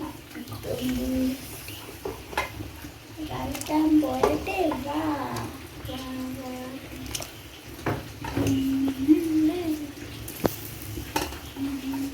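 Fish curry simmering in a pot as fish pieces are dropped in, a steady bubbling wash with occasional soft splashes and clinks, close by, under someone talking.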